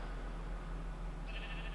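A Minecraft sheep bleats once near the end, a short nasal cry rising over a steady low hum of game ambience, fairly faint.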